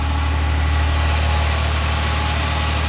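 A vandalized Dodge Journey engine idles at a steady high rev with a loud, continuous droning hum and vibration up close, no voices over it.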